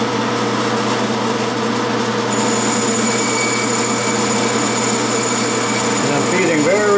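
A metal lathe takes a slow final cutting pass, with oil, on a bell center punch, giving a steady, loud, close whine and hum. A high tone joins partway through and the pitch wavers near the end as the feed slows.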